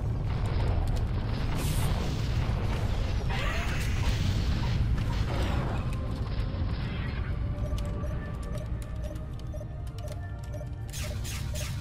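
Turret fire and explosions in a vehicle combat video game, a dense, roaring barrage of booms and mechanical clatter that stays loud throughout before easing slightly near the end.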